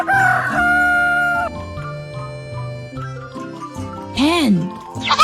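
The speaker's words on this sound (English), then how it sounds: "Rooster." A rooster crows once over steady background music, its rising and falling call standing out clearly near the end.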